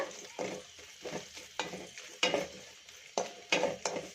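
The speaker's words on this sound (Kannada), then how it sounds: "ಇವಾಗ ಚೆನ್ನಾಗಿ ಫ್ರೈ ಮಾಡ್ಕೊಳ್ಳೋಣ" Dried Byadagi red chillies are stirred in a little oil in a pan. Quiet sizzling is broken by a series of distinct scraping strokes from a spoon, spaced irregularly about every half second.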